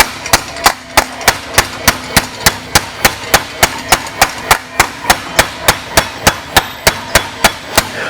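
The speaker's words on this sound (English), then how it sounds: "I'll go ahead and take the hammer and start bringing it around a little bit." A hammer strikes a stainless steel exhaust tip being shaped by hand, a loud, sharp metallic blow repeating evenly about three times a second throughout, with no talk over it.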